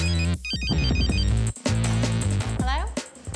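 A mobile phone rings with a loud, close electronic ringtone melody of bright repeating tones, playing over music and voices.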